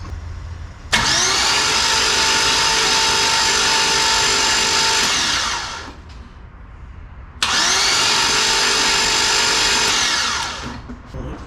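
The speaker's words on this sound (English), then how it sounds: "I'm gonna turn it over by the key and just see" A hydrolocked car engine cranked over with the key, giving two long, loud bursts of strained starter whirring of about five seconds each, separated by a short pause.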